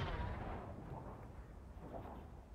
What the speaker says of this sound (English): Nice to hear the shots whizzing past